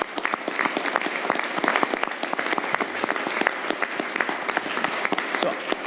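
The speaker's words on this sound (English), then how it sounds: "he gets a big round of applause" A press-event audience applauds after a New York City mayoral arts-education announcement, a dense sustained round of clapping from a sizeable crowd, steady and fairly close, with no talk over it.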